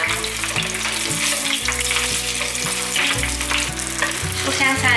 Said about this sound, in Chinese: 再慢慢的煎素香肠，